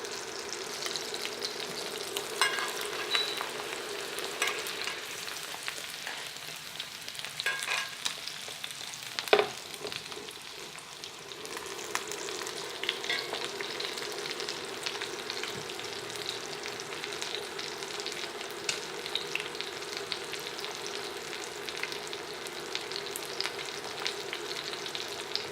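A ribeye steak frying in a pan with butter, rosemary, garlic and thyme, making a steady close sizzle with light spattering and one brief clatter midway, quiet and unbroken.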